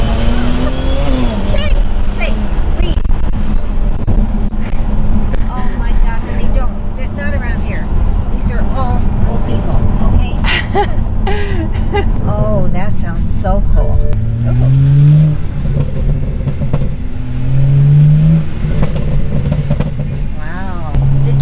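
A BMW 335i on a stage 2 tune runs loud and close, its exhaust letting out a few sharp pops and crackles over the engine drone while several people talk excitedly throughout.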